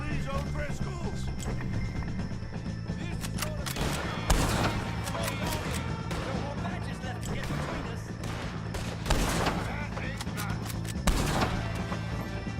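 Gunfire in Red Dead Redemption 2 during a shootout with O'Driscolls, scattered shots with a few sharp louder cracks standing out, moderately distant and irregular over a steady background.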